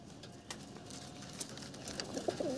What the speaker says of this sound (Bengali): এই পায়রাগুলো সব সেল আছে